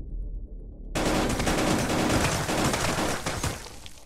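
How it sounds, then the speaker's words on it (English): Dense gunfire erupts from many players shooting at once in a VR video game, starting abruptly after a quiet moment with loud overlapping rapid bursts that continue to the end. "Too many people shooting at me at once."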